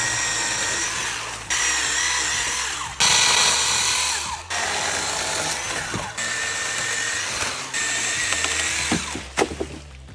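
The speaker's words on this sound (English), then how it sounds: "It's a handheld mini chainsaw, battery powered from Sunjo." A Sun Joe 24V cordless handheld mini chainsaw whines steadily while pruning, in several bursts separated by brief pauses, loud and close, with clattering of branches near the end.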